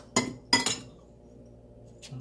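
A metal spoon clinks sharply against a pot while washed rice is added for Korean ginseng chicken soup: two or three bright close taps early, a quiet pause, then a softer clink.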